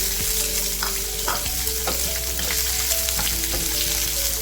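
Chopped onions and garlic frying in a pan for a crab masala curry, a continuous steady sizzle with occasional clinks and scrapes of stirring, close and alone without talk.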